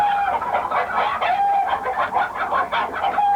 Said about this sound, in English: that's actually a chicken riot recorded with a group of chickens